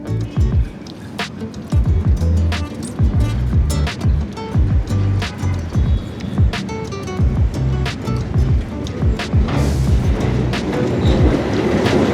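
A train in Vietnam rumbles past with a steady clickety-clack of wheels on rails, loud and close, with rushing wind noise.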